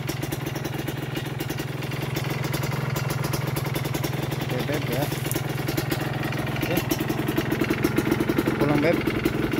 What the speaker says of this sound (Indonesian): Sama motor kesayangan